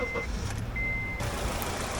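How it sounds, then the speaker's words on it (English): A 2002-2006 Honda CR-V, just fitted with a new tensioner pulley, starts up close by: a thin dashboard chime tone sounds, then the engine catches with a sudden loud rush that settles into a steady low idle rumble, with no talking. "here's me turning on the car,"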